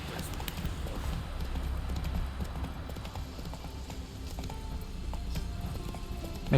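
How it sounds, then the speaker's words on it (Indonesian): Hooves clip-clop steadily as a horse is ridden in The Witcher 3, a continuous even trot under quiet game ambience, with no voices. "Oke. Naik kuda kita."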